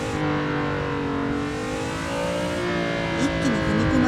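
A race car engine in the Assetto Corsa driving game revs steadily as the throttle is pressed slowly, holding a smooth drone with a rising pitch and faint tire squeal near the end.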